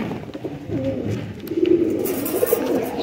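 Pigeons coo softly and repeatedly at close range, low rolling calls overlapping with light rustling and background noise.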